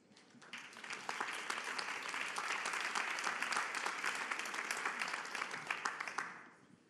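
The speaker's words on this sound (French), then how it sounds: "merci d'avoir applaudi Compaille" Audience at a healthcare communication festival in Deauville applauding the Kompai assistant robot, a dense burst of clapping that swells quickly, holds for several seconds with a faint murmur, then tapers off.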